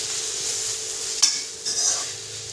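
Spoon stirring red chilli, turmeric and coriander powder into onion filling for Iftar spring rolls, a steady soft scraping texture with a couple of brief louder clinks near the middle, alone without talk.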